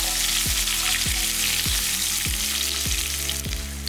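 Ginger, garlic and curry leaves sauté in a pan for a Tamil chicken kola urundai kuzhambu, giving a loud, steady sizzle broken by regular sweeping strokes about every half second.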